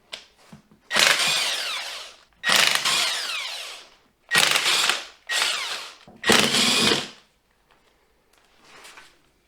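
A ratchet works loose 10 and 15 millimeter bolts from a Dodge NP241 DLD transfer case and NV4500 transmission case, five loud close bursts of rapid clicking separated by short pauses, then a faint final burst.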